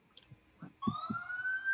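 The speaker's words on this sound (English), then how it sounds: "Is that the siren for him? Because I hope it's the siren." A police siren rises into a steady wail in a TV drama scene, entering after a few faint thuds and holding loud and continuous to the end.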